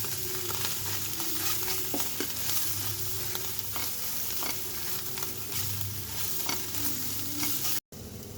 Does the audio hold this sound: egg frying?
yes